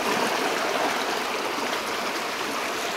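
Fast-flowing river water rushes in a steady, loud, broadband roar close by, with no pauses and no voices over it.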